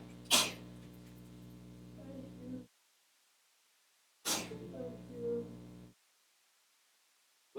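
A single sharp sneeze bursts out near the start, followed by brief muffled mumbling, then a second short burst of noise with muttered sounds after a pause.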